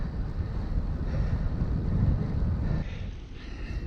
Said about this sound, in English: because it's a coastal location, the wind is always up, even more so, always up